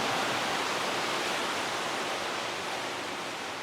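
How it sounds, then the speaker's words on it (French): Continuous even rush of falling water from an indoor artificial saltwater waterfall inside a bunker, a steady broadband hiss with no breaks or voices, fairly soft. "I'll turn on the waterfall."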